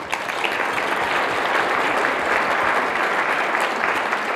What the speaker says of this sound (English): there's no way not to give Jerry Brown a big thank you and a big round of applause